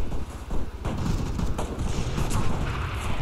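Continuous rattling gunfire and booming shots from a player firing in an online shooter's King of the Hill match, dense and loud throughout with no clear pauses.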